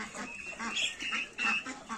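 Young muscovy ducks quacking in a poultry yard, several short raspy calls overlapping in quick bursts, close and fairly loud.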